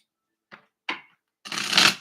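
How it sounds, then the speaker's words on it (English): Tarot cards are flicked twice in short bursts, then riffled together in a longer crisp shuffle, close and fairly loud. "Y'all saw me shuffle those cards, right?"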